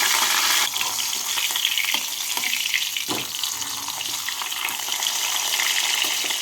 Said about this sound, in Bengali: এইভাবে বাকি মাথাগুলোকে ভেজে নিচ্ছি